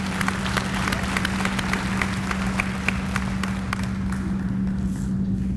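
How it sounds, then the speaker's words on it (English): An audience at a Founders' Convocation gives Mayor Washington a round of applause, a steady crowd clapping that holds evenly and then thins toward the end, with a low hum underneath. "we want to give Mayor Washington another round of applause"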